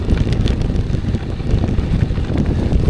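Strong wind buffeting the microphone during a solo bikepacking ride near Figueres on a cloudy day, a constant loud low roar with gusty fluctuations and no other clear sounds.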